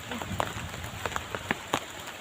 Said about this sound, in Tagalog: Ulan pa man.